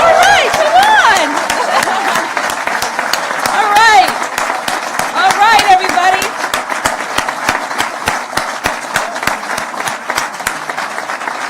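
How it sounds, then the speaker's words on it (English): A ceremony audience applauds awardees at a community affordable-housing event, dense sustained clapping that thins toward the end, with someone speaking over it and a few cheers. "All right, let's clap."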